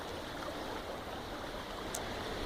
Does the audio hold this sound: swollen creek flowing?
yes